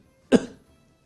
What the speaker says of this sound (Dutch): Begint Sneeuwwitje te hoesten